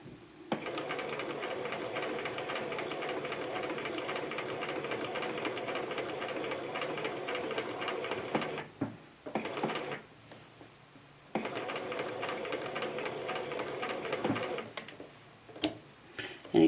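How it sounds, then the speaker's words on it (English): A sewing machine stitches a scalloped embroidery table topper at a moderate, steady pace, its rhythmic ticking hum running long stretches with short pauses between runs of stitching. "I'm not going to be sewing at 100 miles an hour"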